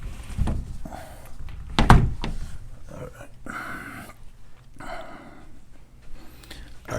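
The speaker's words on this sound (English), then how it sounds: "Door." A door closes with a heavy thunk, followed by muffled knocking and indoor shuffling; brief, fairly close, with light background noise.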